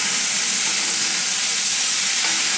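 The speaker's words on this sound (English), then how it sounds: "I'm going to go ahead and add this classic stir-fry sauce." Classic stir-fry sauce hitting a hot wok with chicken and vegetables, a loud, continuous, dense hiss and sizzle.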